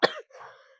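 A single cough from someone with a cold, a sharp close burst followed by a softer, raspy throat-clearing tail.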